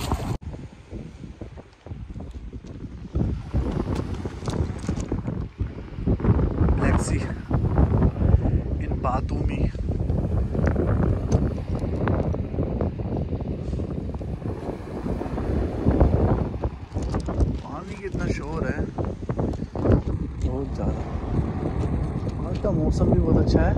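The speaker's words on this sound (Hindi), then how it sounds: "धूप निकली हुई हवा चल रही है" Wind blows hard across a sunny seaside promenade in Batumi, Georgia, a continuous gusty roar buffeting the microphone, with someone talking through much of it.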